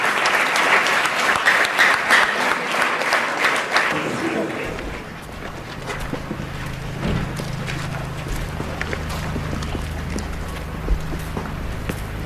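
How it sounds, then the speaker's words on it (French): A loud burst of audience applause at an evening gathering with Mgr Léonard, dense clapping filling the first four seconds before dying away into a low room murmur with scattered voices. "Continuez d'applaudir, chers collègues."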